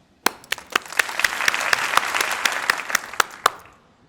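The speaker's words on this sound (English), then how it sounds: "Let's give them a round of applause." A graduation commencement crowd breaks into a round of applause, dense clapping swelling for a few seconds with distinct sharp claps standing out, then fading away.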